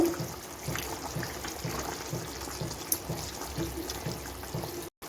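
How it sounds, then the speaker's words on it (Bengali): Koi fish going into a pan of boiling gravy with potato and cauliflower, a soft steady simmering bubble and sizzle with a brief splash near the middle, faint and close. "দেখুন আমার গ্রেভি ফুটে উঠেছে এখন আমি মাছ দিয়ে দিচ্ছি"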